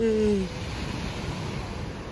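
Sea waves wash onto the shore in Tenerife on a morning outing, a steady broadband surf rush filling the clip, with a brief voice at the very start.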